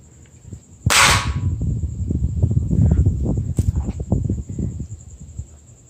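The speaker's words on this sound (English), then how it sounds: "Drop test, and yeah, we're gonna see if it survives." A sharp crack of an iPad 2 hitting the floor, followed by clattering and a second smaller knock, fairly close.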